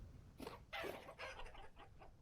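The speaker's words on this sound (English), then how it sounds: "Chickens." Chickens in the video game Vintage Story give a string of short, quiet clucks and squawks in quick succession, faint and a little distant, with nothing else heard.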